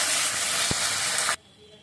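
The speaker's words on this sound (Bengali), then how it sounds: "সিমটাকে নেড়ে ছেড়ে একটু ভেজে নেব।" Flat beans frying in a pan with oil, a loud close hiss that holds steady with one short knock before cutting off abruptly into near silence.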